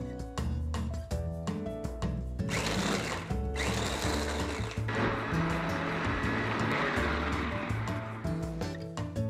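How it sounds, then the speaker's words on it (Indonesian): A kitchen blender grinds red chili, garlic, shallot, ginger and candlenuts with frying oil, whirring loudly and steadily up close. Its motor pitch shifts as the paste breaks down, and music plays underneath. "Pertama kita akan haluskan dulu bumbu-bumbunya."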